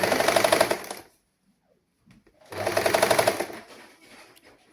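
Sewing machine stitching a saree blouse sleeve: a rapid, loud mechanical whir for about a second, a pause with faint handling noises, then another burst of stitching that tapers off.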